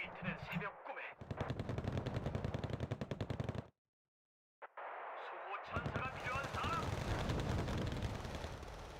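Gunfire in the video game Wargame: Red Dragon, with loud rapid machine-gun bursts and heavy booms that cut to a brief silence, then resume as dense sustained fire.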